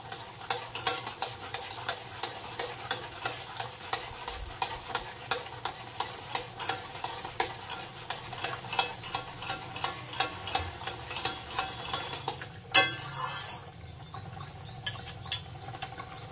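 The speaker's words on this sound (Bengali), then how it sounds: "আমার আলু গলে গিয়েছে, হালকা এইভাবে একটু ঘোটা দেবো।" A spoon stirring and gently mashing soft potatoes in a simmering tangra fish curry, a steady rhythmic scraping against the pan over a low bubbling hiss, with birds chirping faintly in the background.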